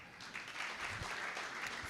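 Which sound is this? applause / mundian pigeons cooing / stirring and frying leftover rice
applause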